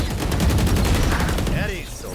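Rapid automatic gunfire in a competitive shooter match: a steady, loud, fast-repeating burst of shots lasting about a second and a half before cutting off into quieter ambient noise.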